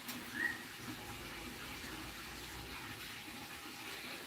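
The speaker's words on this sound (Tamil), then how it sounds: "கார்டனுக்கு தண்ணி விட்டுக்கிட்டு இருக்கோம் ரோஸ் செடிக்கெல்லாம்" Water runs steadily from a hose or tap onto rose bushes in a small home garden, a soft continuous gushing hiss that stays even and moderately quiet throughout.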